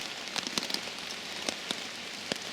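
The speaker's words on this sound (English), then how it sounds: "listen to that rain, isn't it? Isn't that lovely?" Rain falling steadily on a woodland wild camp, a dense soft patter with sharper individual drops hitting close by, continuous and gentle, no voices.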